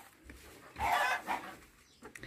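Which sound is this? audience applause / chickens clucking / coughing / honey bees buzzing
chickens clucking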